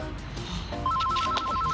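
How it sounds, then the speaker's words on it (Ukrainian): A telephone starts ringing partway through with a steady, pulsing electronic ringtone, close and clear over faint room sounds. "Мам, це телефон!"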